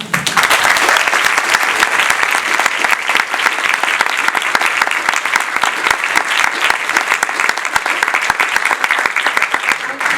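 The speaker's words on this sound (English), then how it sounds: "So I think our applause and joyous whips and cheers should be directed to Lior today." Sustained audience applause at a talk on sustainability and service design, dense steady clapping with a few cheers, loud and continuous throughout.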